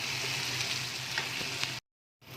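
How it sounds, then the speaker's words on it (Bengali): Tomato tipped into hot oil in a pan for a fish and cauliflower curry, giving a loud steady sizzle with a few stirring clicks that cuts off abruptly near the end, then resumes briefly. "এবার আমি টমেটোটা ঢেলে দেবো"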